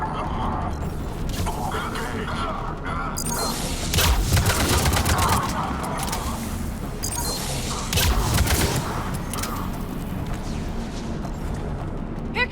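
Heavy gunfire crackles in a Mass Effect 3 firefight, with rapid bursts and booms layered under shouted combat dialogue. Two louder volleys stand out amid the continuous shooting.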